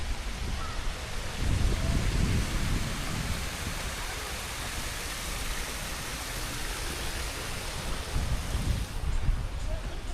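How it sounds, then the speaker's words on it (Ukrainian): Steady rain falling in a park, a dense hiss that holds at an even, fairly loud level throughout with no breaks, building slightly toward the end, and no voices over it. "Да, дощик тільки посилюється."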